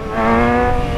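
A motorcycle revving hard with a steady, loud engine tone as its rear wheel slides sideways on wet asphalt. The burst is brief, close and sustained, with no talking.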